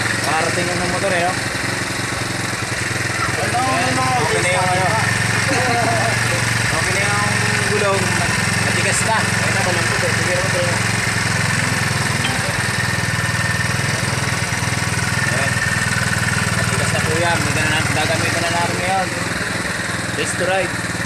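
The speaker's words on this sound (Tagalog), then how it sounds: "Ayan guys, parating ng motor eh." A motorcycle engine runs steadily after its carburetor has been cleaned, a constant mid-pitched idle drone that stays even throughout, with people chatting over it.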